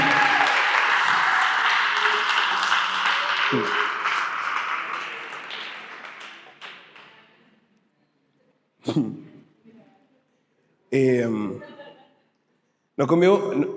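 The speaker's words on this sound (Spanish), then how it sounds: "Un aplauso para Betty" Audience applause and cheering at a talk, a loud sustained crowd roar that gradually fades over several seconds, followed by a few short bursts of a nearby voice speaking.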